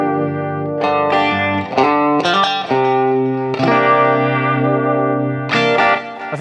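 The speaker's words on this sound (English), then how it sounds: "I think this is just a high-watt amp with a univibe and a chorus." Sustained electric guitar notes through a high-watt amp with univibe and chorus, giving a swirling, wavering modulation and shimmer, chords changing slowly, no voices.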